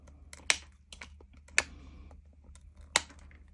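Excess resin trimmed off a 3D resin bloom: three sharp, loud snipping clicks spaced about a second apart, with faint small ticks and handling noises between them.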